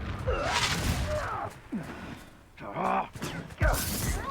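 Confringo spell cast in the Hogwarts Legacy video game: loud bursts and crackling blasts with sweeping magical effects, several impacts across the stretch, mixed with voices and game sound.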